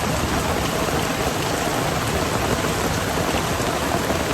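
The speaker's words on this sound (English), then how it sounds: "It's only supposed to rain for like 30 minutes to an hour." Steady rain pours down during a thunderstorm beside a big muddy ditch, a dense continuous hiss of drops striking surfaces close by, loud and unbroken with no talking.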